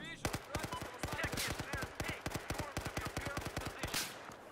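Rapid automatic gunfire in Battlefield 4, a long string of sharp, evenly spaced shots fired in bursts, loud and close, with someone talking briefly over it.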